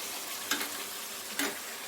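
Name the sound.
onions frying for biryani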